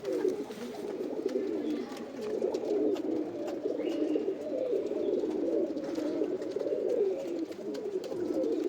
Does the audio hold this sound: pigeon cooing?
yes